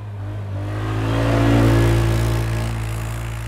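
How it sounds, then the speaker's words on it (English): An ATV passes by as a stock sound effect, the engine swelling steadily to a loud peak near the middle and then easing off as it moves away, heard alone with no talk. "ATV jump, ATV pass by number 8."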